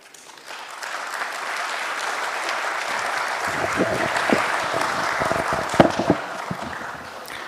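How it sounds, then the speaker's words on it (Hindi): Sustained applause from a large audience at a live finance expo session, a steady dense wash of clapping that holds throughout, with a few sharper claps and faint voices poking through near the end. "वैसे इतनी तालियां मैंने कभी नहीं सुनी किसी के लिए"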